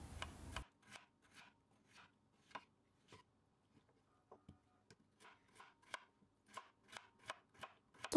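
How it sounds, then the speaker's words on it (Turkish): A knife chops potatoes on a board for a potato dinner dish, giving a steady run of light, crisp taps that quicken toward the end, close and fairly quiet, with no voices. "Son patateslerimi de hızlı bir şekilde doğramaya devam ediyorum."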